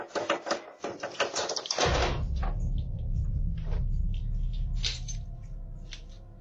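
A door creaks open in a dark house: a burst of sharp creaking clatter at first, then a low sustained rumbling groan that lingers for several seconds, fairly loud and close.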